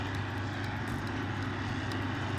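A jet plane passing overhead in Farming Simulator 2013 makes a continuous, fairly close engine roar, broad and even, holding steady throughout with a few faint ticks on top; no talking.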